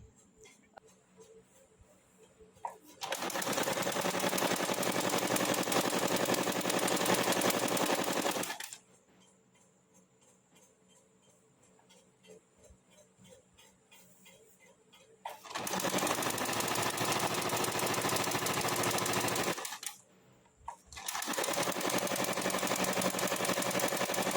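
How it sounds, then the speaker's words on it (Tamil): A sewing machine stitches pillow case fabric in three loud, fast-chattering runs, close by, with quiet handling sounds in the pauses between them. "இப்படியே தைச்சிட்டு வர போகிறோம்."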